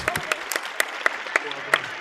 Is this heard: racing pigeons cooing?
no